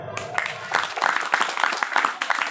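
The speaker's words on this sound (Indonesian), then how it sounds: "Mana tepuk tangannya?" Scattered hand claps from a seated crowd at an Indonesian religious lecture welcoming Ramadan, uneven and moderately close, rising in short bursts over a murmuring background.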